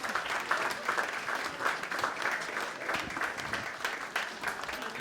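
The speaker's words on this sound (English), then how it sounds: "Let's give a round of applause" An audience at a meeting with guest speakers gives a steady round of applause, a dense wash of many hands clapping that holds evenly throughout with no voices on top.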